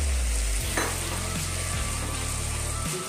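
Pointed gourd (patol) tipped into a hot pan for a Bengali vegetarian Mugeswari patol, landing with a quick splash before a steady, close sizzle of frying carries on, with no voices.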